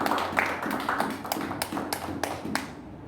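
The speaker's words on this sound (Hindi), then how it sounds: "आइए जोरदार तालियों से खुदा का शुक्र करें" A church congregation claps hard and fast, giving a steady run of quick, evenly spaced claps that fill the whole span.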